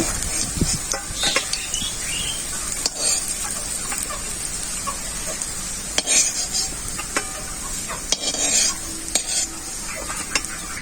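Lentil fritters (bora) frying in hot oil make a bright, continuous sizzle, broken by frequent clinks and scrapes of a spatula against the pan, close and fairly loud, with no talking.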